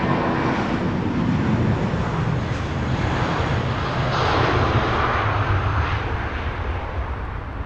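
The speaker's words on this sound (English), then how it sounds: "Malaysian A350 doing that nice 180 turn after departure." A Malaysia Airlines A350 jet departing and turning, a loud broad engine roar that swells in the middle and eases slightly toward the end, with some wind buffeting.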